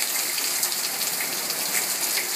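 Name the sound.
rainstorm, heavy rain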